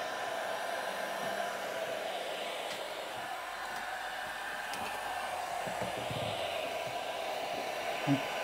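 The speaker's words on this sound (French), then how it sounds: "avec le sèche-cheveux, là, ça a bien décollé" A hair dryer blows a steady, even whoosh while heating a glued matte black ABS spoiler on a Tesla Model Y, running continuously at close range with a faint click near the end.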